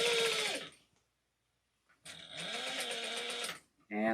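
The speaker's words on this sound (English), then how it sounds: "I just pulled the pocket out and I'm just sewing 1/8 of an inch to close off the" A sewing machine stitching a narrow seam on a tote bag pocket, whirring in two loud runs separated by a silent gap, with a voice speaking near the end.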